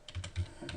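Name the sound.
typing on a computer keyboard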